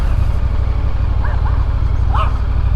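A few short, distant dog barks ring out over the steady drone of an Indian FTR motorcycle riding along a street, with the engine noise dominating throughout.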